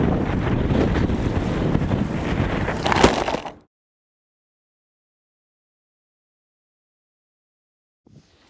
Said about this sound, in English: The huge fire created an inrushing wind.